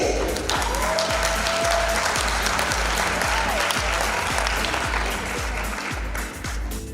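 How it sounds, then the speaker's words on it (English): Steady applause from an audience at a tourism awards ceremony, continuous clapping holding for several seconds at strong level, with a low rhythmic thumping of music beneath. "Can we give her a round of applause as she comes forward, please?"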